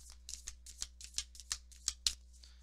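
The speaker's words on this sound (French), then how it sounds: "On va aller chercher une carte de l'oracle de Tao." Tao oracle cards being shuffled by hand, a quick run of crisp riffling snaps and soft slaps at an uneven rhythm, close and fairly quiet, with no talk.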